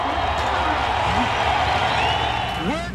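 A standing crowd at a race track cheers for Alan Kulwicki's win, a steady broad roar and applause filling the whole stretch, with faint voices and whistles over it.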